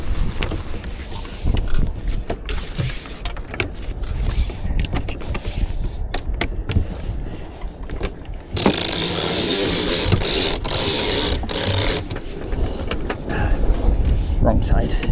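Sail being let out on a sailboat being sailed solo off a mooring: a run of ratcheting clicks and mechanical creaks from winch and lines, with rushing wind and water noise. A voice is heard now and then.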